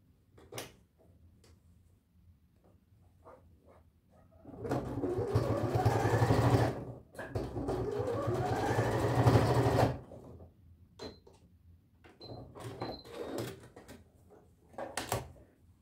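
A sewing machine runs a stitch down the middle of the elastic in a tracksuit waistband, in two loud sustained bursts of several seconds each, separated by a short pause and surrounded by quieter handling clicks.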